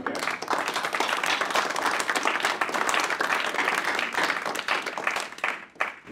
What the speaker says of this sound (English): if we give a great hand of applause